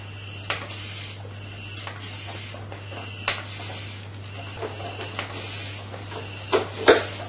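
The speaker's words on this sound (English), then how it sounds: "Oh no, I can hear it's leaking without any fairy liquid." Air hisses from a leaking hull seal on a boat while it is being pumped up, coming in repeated bright bursts of hiss about every second or so over a steady low hum, with a few sharp clicks.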